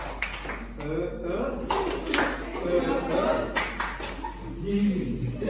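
A classroom of students performs a rhythmic spirit clap, with sharp bursts of hand claps punctuating ongoing talk and some light laughter.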